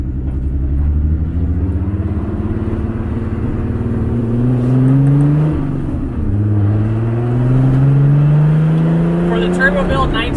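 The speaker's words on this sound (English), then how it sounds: "I went with a locally sourced Turbonetics Super 60. The little turbo is great. The sound is awesome." A turbocharged VR6 in a Rabbit GTI, fitted with a Turbonetics Super 60 turbo, revs up and down in long, rising and falling sweeps, loud and close, with a deep steady engine drone between the pulls.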